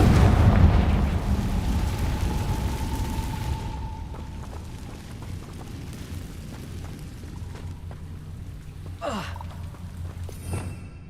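The Confringo blasting spell goes off in Hogwarts Legacy: a loud, rumbling explosion that decays into a lingering low boom, followed by fainter crackles and a sharp sweep near the end.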